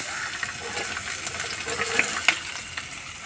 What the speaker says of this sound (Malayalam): ഇനി നമുക്ക് അരിഞ്ഞ് വെച്ചേക്കുന്ന സബോള, ബീൻസും കൂടെ ചേർത്ത് കൊടുക്കാം.